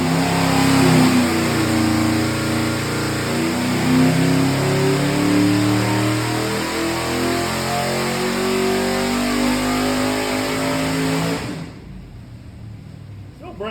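Car engine revving hard on a dyno, a loud close rising and wavering roar that stumbles and breaks up before cutting off abruptly near the end.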